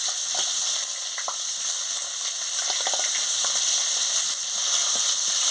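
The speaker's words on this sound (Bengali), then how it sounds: "কড়াতে তেল ছিল, আমি ওই পেঁয়াজগুলো দিয়ে দিচ্ছি।" Onions frying in hot oil in a wok, a loud, continuous bright sizzle with small crackles and light stirring taps, close up and with no voices.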